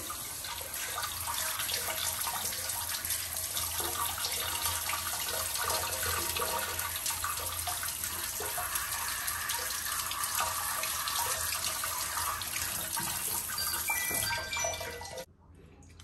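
Tap water runs steadily into a bathroom washbasin while a sink drain pipe is rinsed clean, a continuous close splashing flow that holds for the whole stretch and stops abruptly near the end.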